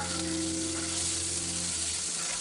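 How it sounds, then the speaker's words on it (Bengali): Ginger garlic paste sizzles steadily in a pan of frying onions, a continuous close crackle and hiss over a faint low hum. "পেঁয়াজটা আমার ফ্রাই হয়ে গেছে এখন দিয়ে দিচ্ছি আদা রসুন বাটা"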